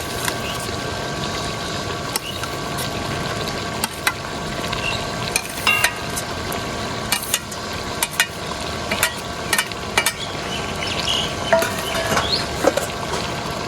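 Home-cooked country chicken, already fried, being stirred in a pan with dried red chilli, cumin and ginger-garlic paste, giving a steady sizzle with scattered scraping clicks throughout.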